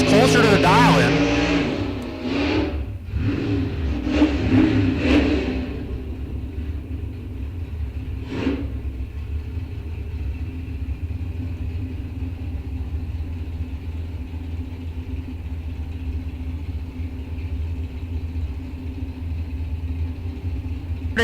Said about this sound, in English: The win light going to go to Fueling in the dragster.